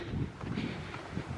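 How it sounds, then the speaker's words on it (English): Gusty outdoor wind buffets a handheld microphone in a low, rumbling, uneven roar that swells and dips throughout, with no voices. "Wow, it is super windy. You can probably hear that."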